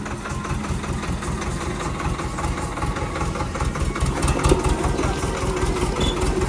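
A motorbike engine idles steadily with a rapid low throb, fairly close, while voices talk faintly in the background.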